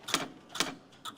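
Keyboard typing for a civil union record: a few short bursts of key taps in quick clusters, fairly quiet, with no voices.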